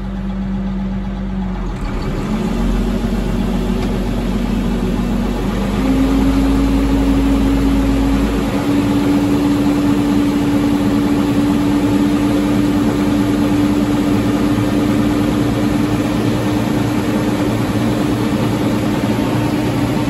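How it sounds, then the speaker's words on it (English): A tractor engine runs steadily at low revs while its PTO, set to 540 RPM, drives a grain dryer drying barley, giving a loud, continuous hum with a sustained mechanical whine throughout and no talk. "we can select the PTO RPM and then just run it at 540"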